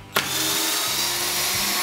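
A tape-fed drywall screwdriver backs out a long 90 mm screw: a short click, then a steady high motor whine held for nearly two seconds, close up.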